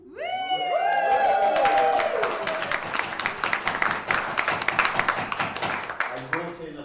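Wedding guests break into applause for the groom's speech, with clapping swelling after a short spoken bit, holding as a dense crowd patter, then thinning out.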